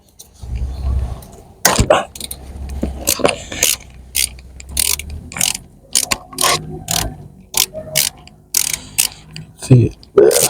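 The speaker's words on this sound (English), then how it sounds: "I'm going to undo these two bolts now. They're 12mm nuts." A ratchet clicks in quick bursts while undoing 12mm nuts on a Mazda 6 SkyActiv turbo, close and crisp with pauses between runs, and someone speaks quietly in between.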